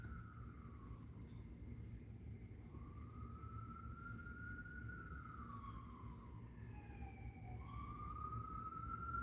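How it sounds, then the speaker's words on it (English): Emergency vehicle sirens outside, wailing and rising and falling over several seconds at a distance, with a steady low rumble of traffic underneath. "Archangel protection with the fucking sirens right there as I pluck the next card."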